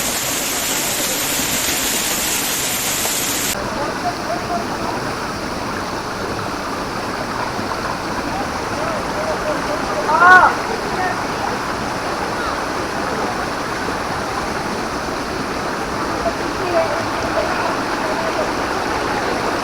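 Steady broadband rush of the Panchpula waterfall in Himachal, water pouring down from above, continuous and fairly loud throughout, with a brief louder splash or knock near the middle.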